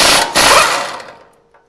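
A power tool spins a nut off a steering gear sector shaft during a heavy-duty tie-rod and drag link install, a loud short whirring burst that breaks briefly, resumes, then winds down to silence.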